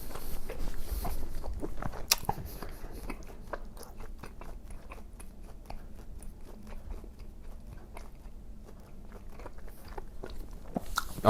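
Close, crisp bites and wet chewing on steak, with repeated crunchy mouth sounds spread across the whole stretch and no talking.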